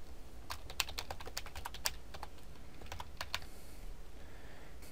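Someone types on a computer keyboard while entering a name while setting up a Back4App app, with quick, uneven bursts of crisp key clicks over a faint steady background hum and no voices.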